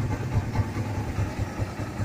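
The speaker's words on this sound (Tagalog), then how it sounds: "Abukas yan yung engine ko" A Kawasaki Barako 175 motorcycle idles close by, its engine putting out a steady low chug with regular, even pulses.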